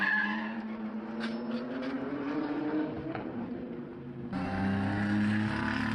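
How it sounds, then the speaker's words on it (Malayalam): A race car in a crash during racing practice in Dubai, heard as a sustained engine roar with sliding, skidding tire noise that swells louder near the end, with no talking. "കാർ റേസിംഗിനിടെ അപകടം, അത്ഭുതകരമായി രക്ഷപ്പെട്ട അജിത്."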